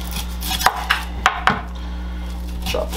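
A knife chops an onion on a cutting board in a handful of sharp, close knocks, spaced unevenly over a low steady background hum.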